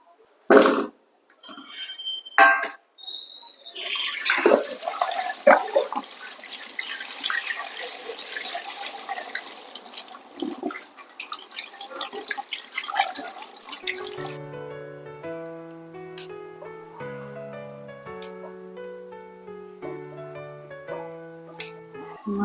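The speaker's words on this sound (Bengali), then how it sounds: "মাছগুলোকে এবার ভালোভাবে ধুয়ে পরিষ্কার করে নেব" Water runs and splashes as cut pabda fish are washed clean, steady tap flow with dripping for about fourteen seconds before giving way to music.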